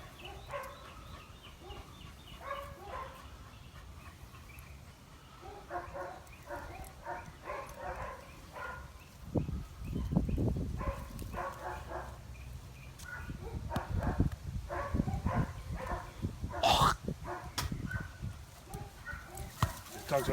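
Puppy barking and whimpering during bitework training, short yips and whines scattered across the clip amid handling noise and bursts of movement, with people talking nearby.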